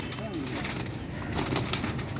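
Pet pigeons cooing softly at close range, with low, murmuring calls and faint rustling. Muffled voices sit in the background.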